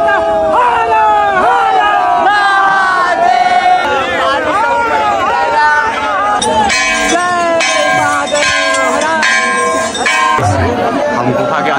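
Dense crowd of devotees packed near the Gupteshwar Dham cave temple, a loud continuous babble of many voices with shouting, close and busy throughout, with bell-like ringing and clinks mixed into the din.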